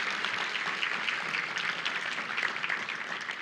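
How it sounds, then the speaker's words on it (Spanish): A church congregation applauding together: steady, dense clapping that stays even and fairly loud throughout, with no voices standing out above it. "vamos a darle un fuerte aplauso al Señor porque nos cambió"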